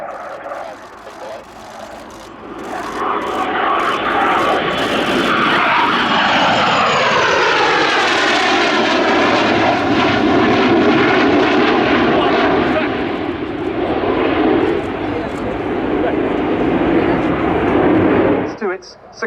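A Dassault Rafale fighter jet roars past at an airshow, its engine noise building, sweeping in pitch as it passes close by, then fading near the end, with a commentator talking over it.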